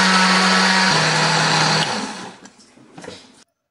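Blender grinding chilies, shallots, garlic and tomato for sambal, a loud high whine that shifts pitch, then cuts out and winds down, followed by faint clatter.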